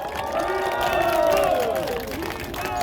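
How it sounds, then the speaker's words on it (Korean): Crowd at a campaign rally at Sorae Port breaks into loud, sustained applause and cheering, filling the air continuously as voices shout within the mass of sound. "다시 한번 이낙연 선대위원장님께 뜨거운 박수 부탁드립니다"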